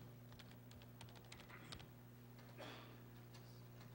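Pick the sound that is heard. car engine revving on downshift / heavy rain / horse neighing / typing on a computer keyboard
typing on a computer keyboard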